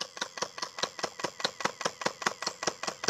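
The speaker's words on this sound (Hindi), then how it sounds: "तो इससे पूरी बुलेट फायर हो गई" A toy Avengers gun firing water gel bullets in rapid automatic bursts, a close, evenly spaced string of about sixteen sharp plastic clicks and pops in quick rhythm.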